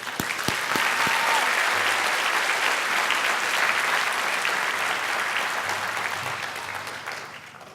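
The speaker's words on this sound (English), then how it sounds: "They deserve your thanks and a round of applause." Sustained applause from a large audience at a college convocation, steady and full for several seconds before tapering slightly at the end.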